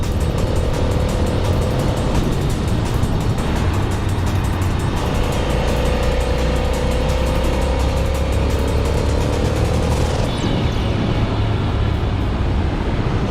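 Steady close engine drone from a Ducati 800 Monster S2R motorcycle on the move, with a slight pitch rise midway and a shift near the end, loud and continuous with wind noise.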